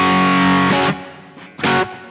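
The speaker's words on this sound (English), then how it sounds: "Just adding the reverb and the compressor in." Electric guitar played with a blues rock tone through a Boss GT1 effects unit with reverb and compression, a sustained distorted chord ringing out, then a short second stab after a pause, both trailing off in reverb.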